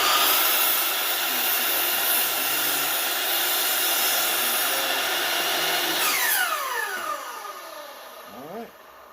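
A power saw cuts steadily close by with a loud, whining roar, then winds down with falling pitch as the blade slows to a stop.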